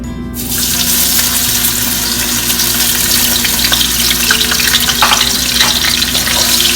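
Garlic frying in about three tablespoons of oil for a Loitta dried-fish dish, a loud, steady, dense sizzle that carries through the whole stretch with faint stirring and no voices.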